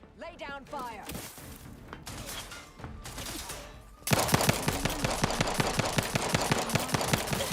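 Gunfire in The Outer Worlds 2 on very hard mode: scattered shots and mechanical clatter give way to a sustained rapid automatic burst, loud and dense, with a voice briefly heard early on.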